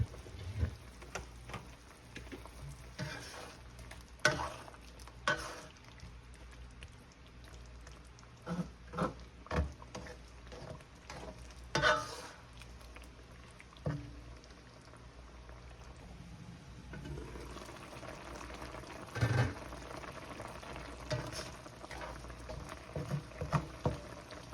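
Pork adobo simmering in a covered pot with water added, a soft continuous bubbling and patter of boiling liquid with scattered pops and lid clinks, steady and fairly quiet with no talk.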